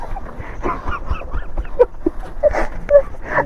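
A dog at a site where a tractor is parked gives a few short, high yips or whimpers amid rough background noise and movement, fairly close by.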